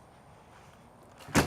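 A screen door on a 2018 Puma 31BHSS camper opens or closes with a single short, sharp clack near the end, after quiet room tone.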